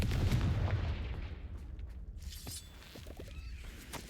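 Confringo fire spell blast in the video game Hogwarts Legacy, a loud booming burst that rumbles and decays over a few seconds, followed by scattered crackles and small debris sounds.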